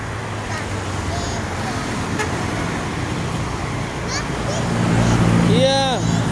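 A bus on a road passes close by, its engine rumbling as it goes, with traffic noise throughout and a short horn toot near the end.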